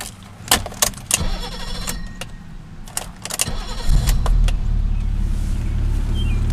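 A 1986 BMW 635 cranks with a few sharp clicks and bursts of starter whir, then catches and settles into a steady, loud low rumble that carries to the end.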